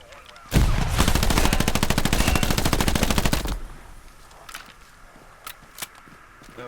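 Pistol gunfire in the World War II shooter game Hell Let Loose: a loud, close, rapid burst of shots lasting about three seconds, then near silence broken by a few faint clicks and knocks.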